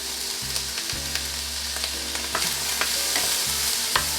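Carrot, green peas and sweet corn sauté in a pan, giving a steady close sizzle with soft scraping stirs and small pops throughout.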